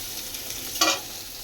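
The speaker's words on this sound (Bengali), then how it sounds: "এই কাঁকরোল ভাজছি" Teasel gourd fries in a pan with a constant low sizzle, and a short louder crackle flares up once midway.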